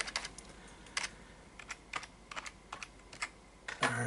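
Password typed on a computer keyboard while setting up a Hackintosh running macOS Mojave: a quick run of close, crisp key clicks in uneven bursts, ending in a louder clatter.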